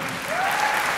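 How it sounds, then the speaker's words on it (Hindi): Loud audience applause at an award felicitation, a brief steady wash of clapping with a faint tonal hum running through it. "एक बार जोरदार तालियां।"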